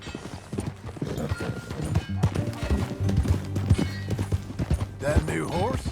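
Horse hooves clip-clopping in Red Dead Redemption 2 as riders set off together, a steady rhythmic trot under game dialogue and ambient music, with a brief whinny near the end.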